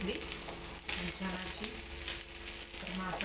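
Vegetables frying in a pan during a busy morning home cooking routine, a loud, steady close sizzle with crackling and occasional stirring scrapes throughout.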